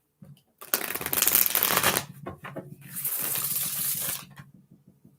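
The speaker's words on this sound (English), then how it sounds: "One more shuffle." Riffling tarot card shuffles in two long bursts, a bright papery flutter, with quieter taps and soft handling between and after, close by.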